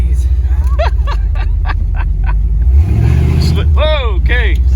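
A car engine revs hard under partial throttle as the tyres break loose and slide, a steady loud roar with rising pitch, while excited voices chatter and exclaim over it.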